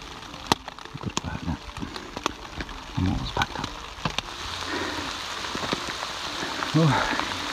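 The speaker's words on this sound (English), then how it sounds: "Listen to the rain." Rain falls on a Georgia section of the Appalachian Trail on a morning before a big climb, a steady wash of patter with scattered nearby drops and knocks, and some brief movement sounds close by.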